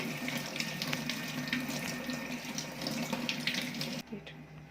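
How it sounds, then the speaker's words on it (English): Tap water runs steadily from a faucet into a sink while king prawns are washed by hand, a continuous close splashing hiss that cuts off near the end. "Wash the entire prawn, near the tail as well."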